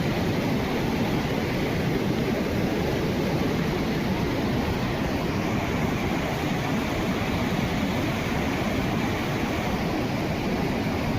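Floodwater after heavy rain rushes through a village drain, a dense, continuous roar of churning water that stays loud and unbroken from start to finish.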